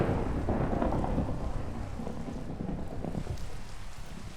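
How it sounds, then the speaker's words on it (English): Minecraft thunderstorm with steady heavy rain and a deep rumble of thunder rolling through, loud and continuous with no voices. "Get past this rain and thunderstorms"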